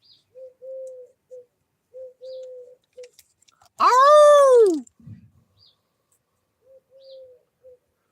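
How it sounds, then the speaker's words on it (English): A pigeon or dove coos in soft, repeated low phrases, with a louder swooping call in the middle and a brief exclamation from a man just after it. "That fucking bird driving me nuts."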